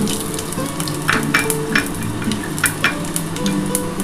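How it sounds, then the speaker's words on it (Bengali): Bay leaves, a dried red chilli and whole spices crackle and sizzle steadily in hot oil for a Bengali bottle gourd, prawn and potato dish, with a few sharper pops and spatula scrapes, close and without talk. "দুটো তেজপাতা দিলাম একটা শুকনো লঙ্কা দিলাম আর একটু গোটা দিয়ে ফোড়ন দিলাম"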